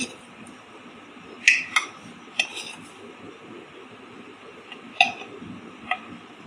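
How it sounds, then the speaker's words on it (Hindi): A spoon clinks against a glass bowl while maida flour is added to oil, sounding as several sharp, bright taps spread irregularly over a quiet background with no talking. "अब मैं इसके अंदर 4 चम्मच मैदे के डालूंगी"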